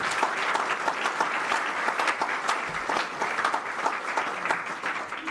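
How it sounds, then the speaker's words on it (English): Audience at a high school athletic hall of fame awards banquet applauding the venue staff, a sustained burst of clapping from many hands, moderately loud and steady throughout with little talk. "How about a nice round of applause for the staff here at the Havisham?"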